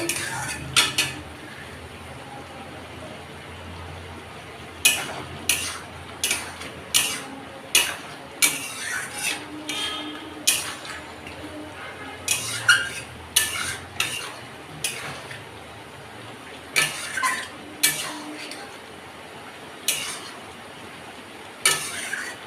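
A lid comes off a cooking pot of Bengali curry on the stove with a series of sharp metallic clinks and clatters, close and fairly loud, spread across a steady low kitchen hum, with no talking.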